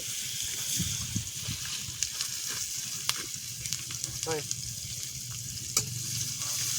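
Chopped onions frying in darkened fish oil, with a steady loud sizzle, repeated scraping stirs and a few clanks of the utensil against the pan.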